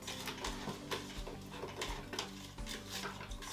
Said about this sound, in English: occasionally you can raise it and stir your mixture in, or mix it